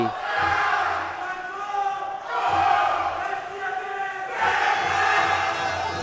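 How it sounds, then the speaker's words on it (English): A Danish football crowd at a Nations Cup match between Northern Ireland and Denmark roars and chants in loud rising surges that fill the stadium, with a brief dip between each wave. "The noise from the Danish crowd is absolutely sensational"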